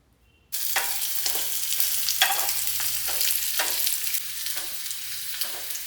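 Small shallots sautéing in coconut oil in a pan, a steady bright sizzle that starts abruptly and continues evenly, with occasional stirring scrapes rising through it, close and fairly loud, no voices.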